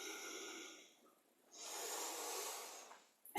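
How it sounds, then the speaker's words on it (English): Breathing during a yoga session: one audible inhale, a pause of silence, then a longer, airy exhale, close and soft with no talk. "And then a breath in and out."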